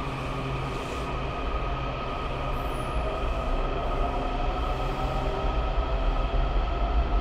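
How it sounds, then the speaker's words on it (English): An old 3000 series Washington Metro train pulls into an underground station, a steady loud rumble of wheels and motors with a brief high squeal, no talking. "Train. Oh, it's an old one. 3000 series?"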